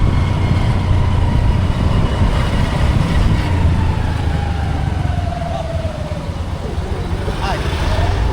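Vehicles and lorries on a road near Edappally in Kerala rumble past in a continuous traffic wash of engine noise, with a horn or tonal whine briefly rising above the drone.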